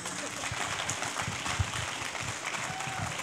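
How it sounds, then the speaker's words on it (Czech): A studio audience at a Czech talk show claps steadily and continuously, a dense wash of applause at moderate level with no pauses. "To je potlesku, ježišmarja"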